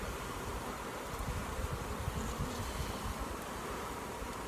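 Honeybees swarm around frames pulled from a hive, producing a dense, steady buzzing drone that fills the whole stretch without pauses or voices.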